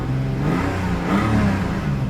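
Nissan Skyline R34 GT with an RB engine revving: a steady, dense mid-pitched drone that swells slightly and holds, heard close and loud with no talking.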